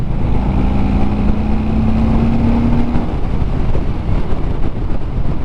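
Harley-Davidson Street Bob 114 V-twin motorcycle pulling hard after a downshift into fourth gear, its engine note rising steadily for a few seconds beneath loud, continuous wind rush.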